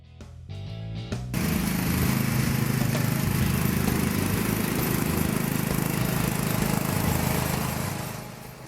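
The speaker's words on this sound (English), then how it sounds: "Now let's test it out and do some mowing." A John Deere lawn mower starts up and then runs steadily while mowing, a loud, continuous engine drone with blade whir that holds at a constant level for most of the clip and tapers slightly at the end.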